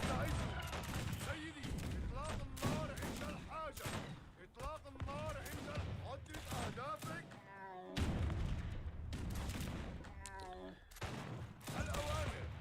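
Cannon blasts and gunfire crack repeatedly in a real-time strategy battle in Age of Empires 3, dense bursts overlapping throughout while someone talks over the game action.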